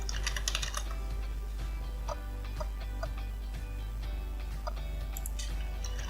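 Fingers type on a computer keyboard in a steady run of close, crisp key clicks with brief pauses, over a constant low electrical hum.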